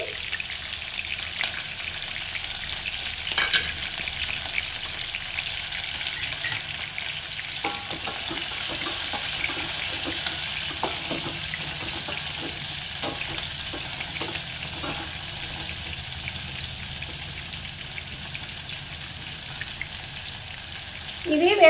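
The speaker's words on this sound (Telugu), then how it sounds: "మనము దాంట్లో కొంచెం సాల్ట్ వేసుకుంటే ఆనియన్స్ తొందరగా వేగుతాయి" Onions fry in oil in a pan while a ridge gourd masala curry is cooked, giving a steady soft sizzle with scattered scraping stir strokes over about twenty seconds and no talk.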